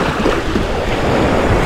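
Strong onshore wind by the sea, a steady dense roar buffeting the microphone with surf-like wash underneath, loud and continuous without pause.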